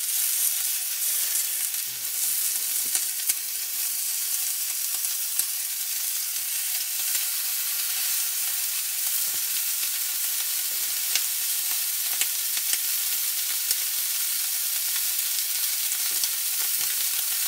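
Hot dogs sizzle steadily on an oiled flat-top griddle, a dense, even frying hiss with occasional spatters and scrape ticks, no talk.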